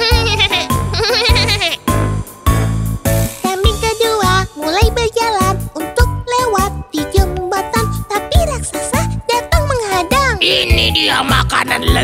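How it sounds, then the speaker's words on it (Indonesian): A small, thin goat from a children's story bleats repeatedly in wavering, pitch-bending cries, loud and close over rhythmic background music with light jingles. "Aku hanyalah bayi kambing yang kurus dan kecil."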